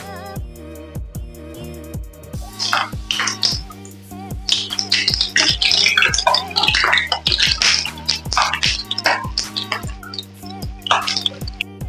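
Chin-chin dough crackles in hot oil as a milky, butter-rich batch fries, a dense stream of close, loud sizzling pops and snaps with a steady rhythmic tapping underneath throughout.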